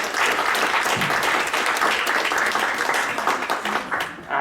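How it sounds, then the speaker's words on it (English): Gala audience applauding a book prize honouree, a dense steady wash of many hands clapping that holds for several seconds, with brief voices mixed in toward the end. "Please, big round of applause."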